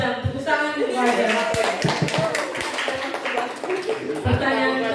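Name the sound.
audience clapping hands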